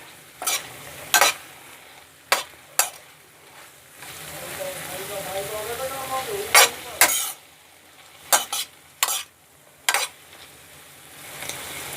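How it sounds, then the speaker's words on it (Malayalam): Broccoli salad vegetables dressed with lemon juice are tossed and stirred in a pan, giving sharp intermittent scraping clicks of a utensil against the pan over a soft steady hiss. "ഇനി നമുക്ക് നല്ലതായിട്ട് ഇളക്കി യോജിപ്പിക്കാം."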